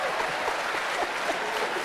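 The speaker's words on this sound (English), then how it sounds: "Clap for that," Audience applause at a prisons department staff gathering, a steady dense wash of clapping heard alone and at an even level throughout.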